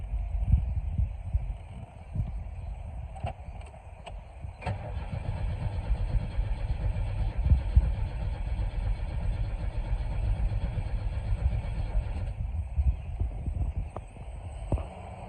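A rebuilt engine in a 1996 Chevy S10 drift truck cranks on its first start, a continuous rhythmic starter churn with repeated pulsing turns that runs close and steady for most of the clip without catching.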